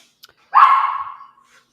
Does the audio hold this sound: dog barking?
yes